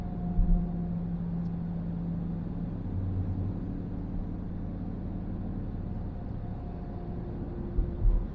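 Car driving through commuter traffic on a daily drive to work, a steady low engine and road rumble with faint hum throughout, a couple of brief bumps near the start and end, no talking.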